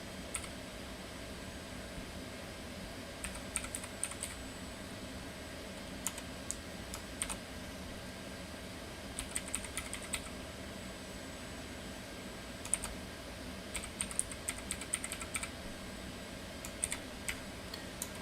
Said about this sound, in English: let me just type it in because it's too big.